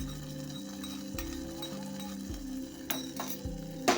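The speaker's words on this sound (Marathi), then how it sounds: "जे आपण काजू बदाम तुपामध्ये परतून घेतलेले आहेत ते आता भगरच्या खिरीमध्ये मी मिक्स करून घेत आहे." A spoon stirs ghee-fried cashews and almonds into bhagar kheer in a pot. Soft scraping and repeated light clinks come through close and steady, with no talking.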